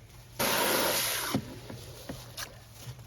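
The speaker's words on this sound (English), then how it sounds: "Let's get more water in there." Water is poured into a 20 gallon tub in a brief splashing gush, fairly close, followed by a few small sloshes and drips.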